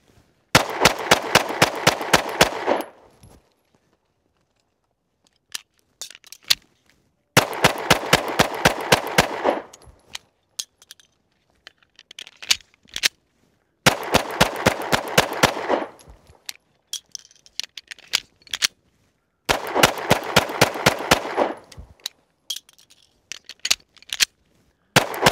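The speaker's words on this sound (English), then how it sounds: "100 round reliability test with hollow point ammunition through the Springfield XDS 9mm" A Springfield XD-S 4.0 single-stack 9mm pistol fires hollow point rounds on a range. It lets off four loud, rapid strings of sharp shots, each separated by several seconds of near silence and small handling noises.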